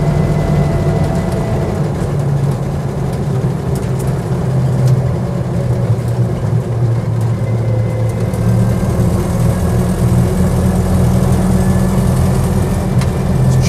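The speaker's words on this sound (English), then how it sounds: "Chugging along in fourth gear now." A Land Rover Series 1 86-inch engine chugs steadily in fourth gear at low road speed, a loud, continuous low rumble heard from inside the moving vehicle.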